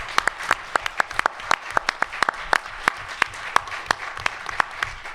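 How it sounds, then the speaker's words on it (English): An audience claps for a panel discussion on global hegemony, a dry, scattered run of individual claps at close range that keeps going for five seconds with no voices over it. "I want to give them a round of applause."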